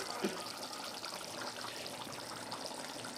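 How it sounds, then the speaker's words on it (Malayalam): Roasted-coconut chicken curry simmering in a pot gives a steady soft bubbling and trickling, with one small pop near the start and no talk over it. "അപ്പോൾ ഇത് നമ്മൾ വറുത്തരച്ച ചിക്കൻ കറി ഇതിങ്ങനെ തിളച്ചുകൊണ്ടിരിക്കുന്നു"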